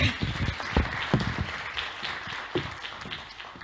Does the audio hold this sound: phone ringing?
no